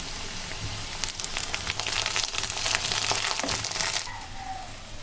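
Garlic paste dropped onto frying onion in a pan: a close sizzling hiss that swells into a loud crackling burst, then settles back to a softer sizzle.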